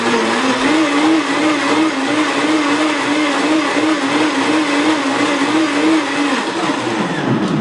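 Loud, steady motor whir of a Super Blend Tech blender running on its smoothie setting, blending a smoothie with ice, with a wavering pitch that drops slightly near the end.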